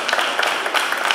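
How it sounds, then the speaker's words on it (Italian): An audience at the Bologna Award 2018 ceremony breaks into dense, steady applause, a brief wash of many hands clapping together. "Applauso, grazie."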